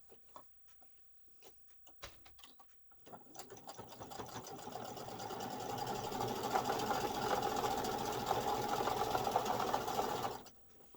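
Sewing machine stitching a fabric heart monitor pouch, a few faint taps before a steady close whirring run of rapid stitching that lasts several seconds and then stops abruptly.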